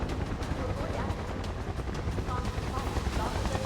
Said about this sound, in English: Oh, a chopper.